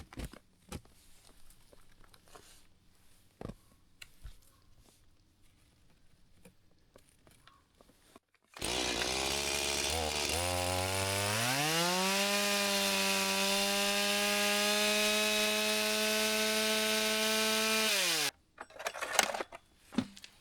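A chainsaw starts up and cuts wood in deep snow, roaring loud and steady with its pitch rising as it bites in, then cutting off abruptly, with quieter rustling and knocks before and after.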